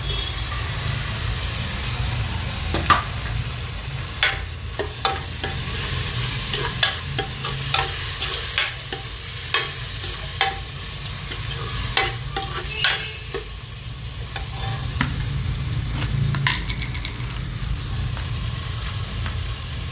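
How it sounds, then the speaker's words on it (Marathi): Tomato and coriander going into ginger-garlic paste frying in a pressure cooker for dal khichdi, a steady sizzle with regular sharp spoon taps and scrapes against the pot, low rumble beneath, no talk. "त्यामध्ये आता टमाटा आणि कोथिंबीर टाकत आहे"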